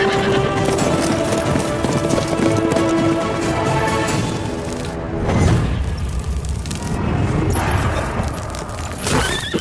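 A horse's hooves clip-clop in a steady rhythm through a tense film scene, loud and close, with low booming rumbles swelling underneath midway and again near the end.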